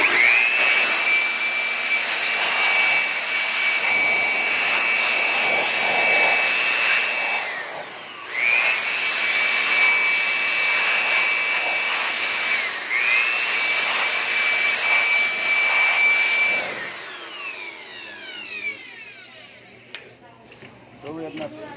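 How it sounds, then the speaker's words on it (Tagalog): Loud whining rush of an air blower cleaning dust out of a computer power supply, running in three long bursts separated by brief pauses, then spinning down and fading near the end. "Blower natin guys."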